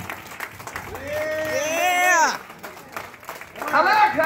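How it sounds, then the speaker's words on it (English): A congregation at a celebration of life for a reverend claps and cheers in a sustained, crowded burst of applause, while a voice calls out loudly over the clapping. "I want everybody to stand up and clap for the celebration of life of Reverend Feagin."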